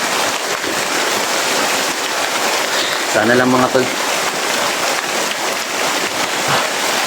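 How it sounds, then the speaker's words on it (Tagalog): Heavy rain pours steadily outdoors as a dense, constant hiss, with someone speaking briefly over it. "Parang malakas na yung ulan mga tol"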